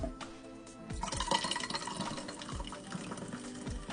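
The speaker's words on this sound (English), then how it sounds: "Then we're going to go ahead and fill it up with Sprite." Sprite lemon-lime soda pours into a cocktail glass with honey liqueur, a steady fizzing, splashing liquid stream close by with no talking.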